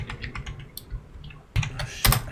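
Rapid computer keyboard typing during an online Planetary Annihilation: Legion strategy game session, a clattering run of keystrokes with a couple of louder clustered bursts near the end.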